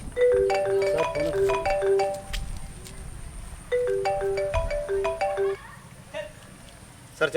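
A mobile phone ringtone plays a bright repeating melody twice, loud and close, in a village setting, then stops; a voice speaks briefly near the end.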